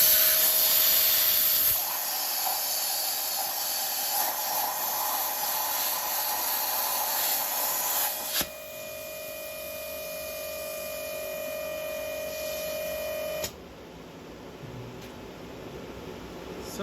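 Metal is cut for a 2-inch receiver hitch on a mower, making a loud, steady hiss with a sustained whine. The tone shifts twice as the cutting goes on.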